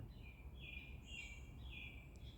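Several birds chirp and warble in short overlapping phrases in a park, against a steady low outdoor rumble, fairly distant and gentle.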